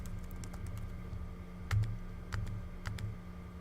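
A username being typed on a computer keyboard: a short run of quiet, close key taps in an uneven rhythm, a few slightly heavier strokes standing out against a faint steady background hum.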